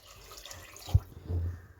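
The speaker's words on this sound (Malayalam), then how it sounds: "ഇനി ഇതിലേക്ക് വെള്ളം ഒഴിക്കുക." Water is poured into a pressure cooker holding chicken, yogurt, salt, garam masala and turmeric for a cooker biryani: a faint, brief splash and trickle in a quiet kitchen.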